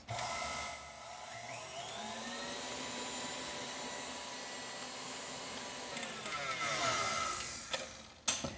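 An electric stand mixer whirs steadily while beating egg yolks into a light cake batter, a continuous close motor drone whose pitch shifts slightly toward the end before a brief clatter.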